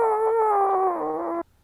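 Rufus, a mixed-breed dog, lets out one long, high, wavering whimper close by that stretches out like a soft howl before cutting off abruptly, with no talking.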